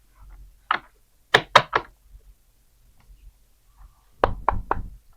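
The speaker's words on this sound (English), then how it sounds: "Sorry about all the shuffling and knocking, if you can hear that from my microphone" Sharp wooden knocks in quick clusters of three, separated by quiet gaps, with faint soft rustling of tarot cards being shuffled between them.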